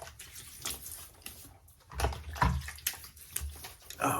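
Tap water splashes in irregular bursts as hands scoop it to wet a face before a shave, with close sloshing and dripping separated by brief quieter gaps.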